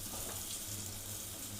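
Potato pieces fry in hot oil in a pan for an egg and potato curry, giving a steady, fairly quiet hiss of sizzling throughout with no talking.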